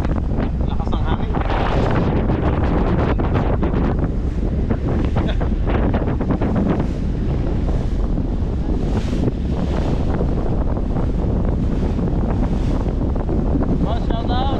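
Strong wind roars across the open sea aboard a boat, loud and unbroken with buffeting gusts hitting the microphone and water rushing beneath, while faint indistinct voices come through now and then.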